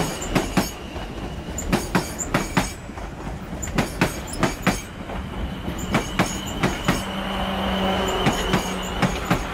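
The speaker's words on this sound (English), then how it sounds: "Southwest trains arriving here at Guildford for Portsmouth Harbour." A South West Trains class 444 electric unit pulls into Guildford station, with a steady run of sharp rhythmic wheel clicks over rail joints, a low rumble and a sustained tonal hum building as it slows near the platform.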